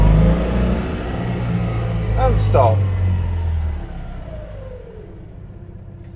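A British-built 1955 Citroën 2CV with a 425cc engine revs up steadily as its centrifugal clutch engages and the car pulls away, a low rumbling drone that fades; someone speaks briefly over it.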